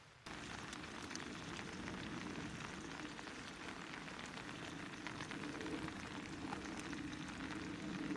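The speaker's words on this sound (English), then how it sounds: "Got a bit of a rain outside," Steady rain patters on a tent during a solo camping trip after a storm, a dense, even hiss of drops close by that continues without a break.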